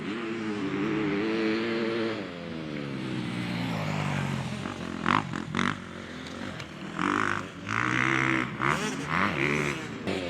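A car engine revs hard on a race track, climbing and falling in pitch through gear changes, fairly loud and close, then dropping into choppier bursts after a downshift.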